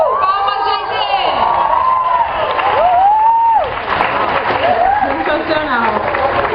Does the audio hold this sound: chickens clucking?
no